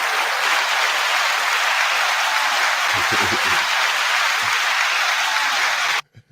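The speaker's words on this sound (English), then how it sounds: "9-second applause to you all." Applause at a live music and culture show, a loud, continuous broadband wash of clapping that ends abruptly near the end, followed by a short voice.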